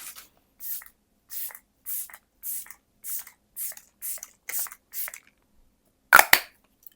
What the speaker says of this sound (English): I'm going to spray a hydrating mist